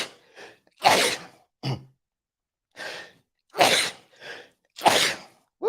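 Several short loud breathy bursts come close to the mic with pauses between, a run of sneezes or sneeze-like exhales, with no talking.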